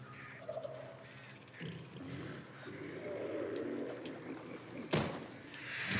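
Birds calling in the Back 4 Blood zombie shooter, a flock of fowl-like honks and squawks amid game ambience, with a sharp burst near the end; moderate level, no speech over it.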